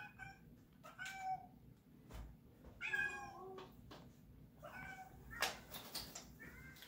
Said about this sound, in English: you keep hearing our kitty in the background